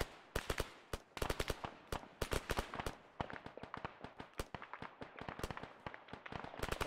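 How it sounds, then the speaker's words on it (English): Heavy gunfire in the Arma military game on the Tanoa map, with dense irregular volleys of sharp shots and quick bursts, some close and loud and others more distant, continuing without pause and no talking. "Taking heavy fire from the south."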